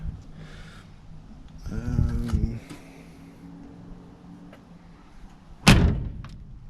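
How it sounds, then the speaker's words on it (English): A door on an International Harvester 1210 pickup truck shuts with one loud, solid thud close by, after some quieter handling noises and a brief squeaky rattle earlier. "Door shut great"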